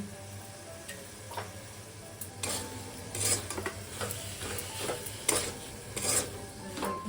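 Sizzling and scraping from a pan of fish frying with salt and turmeric, with a utensil stirring in repeated bursts over a steady low hum; no voices.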